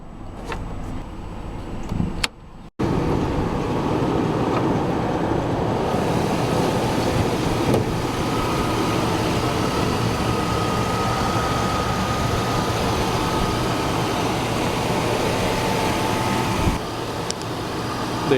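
A 1999 GMC Yukon with a 5.7L V8 engine runs at a steady, loud, close rumble for most of the clip. A brief clunk is heard just before the engine noise settles in, and no one talks.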